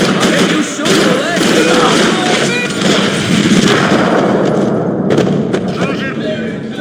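Sustained gunfire from a shootout in the video game Max Payne 3, with dense overlapping shots and heavy booms filling the whole stretch, loud and close, with shouting voices mixed in.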